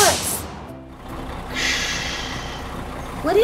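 Air brakes hiss on a Playmobil toy school bus as it stops, given as a sound effect: a short burst of hiss at the start, then a longer, steady release of air that fades out, with no talking.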